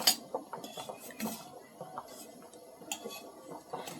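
Eggplant slices being turned in a pan while frying without oil, with light metallic clinks and scrapes of a utensil against the pan, close and fairly quiet, no talk.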